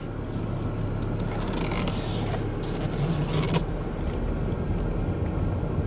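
A car pulls away at an auto auction in Sport Plus mode, a steady loud engine and road drone filling the cabin with a faint creak riding on top, with no talking.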